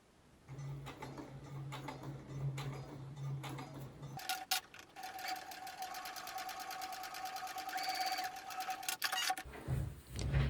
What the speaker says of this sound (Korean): 지퍼를 달아준 부분을 끝박음질로 눌러줄게요.